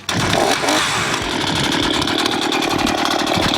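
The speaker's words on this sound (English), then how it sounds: "Are you gonna use a chainsaw?" A small engine, likely a chainsaw, starts abruptly and runs loud and steady close by, droning without pause.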